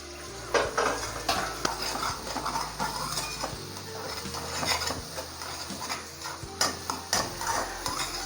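Egg scrambles in hot oil in a kadai, a spatula scraping and clinking against the metal pan in irregular strokes over a low, steady sizzle, close and moderately loud, with no talk.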